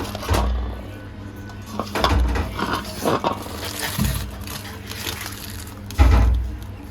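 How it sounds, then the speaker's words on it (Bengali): Shredded cabbage being hand-mixed with spices in a bowl, giving soft repeated squelching and rustling strokes with a few louder thumps near the start, middle and end, close up and with no talk. "এই যে দেখেন পাতাকপি দিলাম, সুন্দর করে মশলাটা মাখছি"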